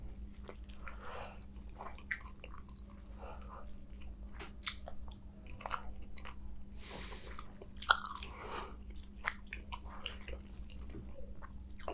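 Close, quiet mouth sounds of chewing and biting into a mutton leg piece in curry, soft wet crunches and smacks scattered over a steady low hum, with no talking.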